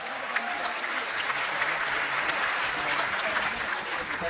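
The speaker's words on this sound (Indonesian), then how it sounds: "Tepuk tangan buat kita semua." Crowd at a speech on change applauding together, a sustained, even roar of many clapping hands heard from within the audience.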